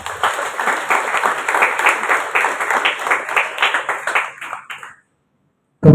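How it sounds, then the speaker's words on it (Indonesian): Audience applause at a high school orientation opening ceremony, a dense steady clapping that fades out near the end before a sudden loud burst at the very close. "Tepuk tangan untuk kalian semua."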